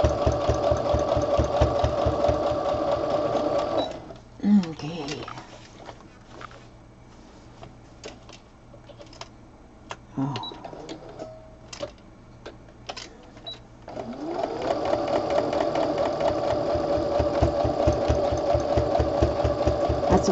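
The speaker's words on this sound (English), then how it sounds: "I just love the hum of the sewing machine" A sewing machine hums and chatters rapidly, stops for several seconds of quiet clicks and handling, then starts up again in a steady whir.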